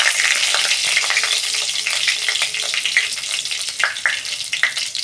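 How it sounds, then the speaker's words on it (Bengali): A bay leaf and a dried red chili hit hot oil for tempering, producing a loud, continuous close-up sizzle and crackle with a few sharper pops, and no talking. "একটা তেজপাতা, একটা শুকনো লঙ্কা দিচ্ছি তেলে"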